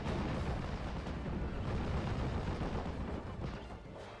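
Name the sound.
off-map artillery barrage in video game Steel Division Normandy 44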